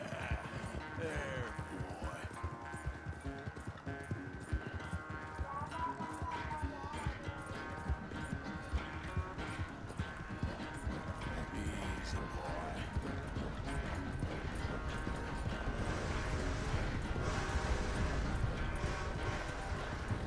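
White horse galloping in the video game Red Dead Redemption 2 during a race, steady rapid hoofbeats under game music and a player talking, growing louder toward the end.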